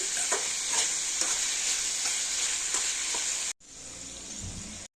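Chilli, onion and tomato frying in a pan, giving a loud, steady close sizzle with soft stirring scrapes, broken by a sudden drop to near silence partway through before the frying resumes.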